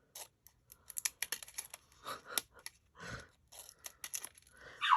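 Scissors snip through paper while cutting out diamond shapes for a winter fold card, a run of quick, crisp close-up cuts with short pauses between them.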